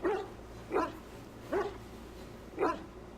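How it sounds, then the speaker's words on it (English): A big dog in the video game Dragon Age Origins barks four times at a steady, evenly spaced rhythm, each bark loud and close against a quiet background. "Oh, that's a big frickin' dog."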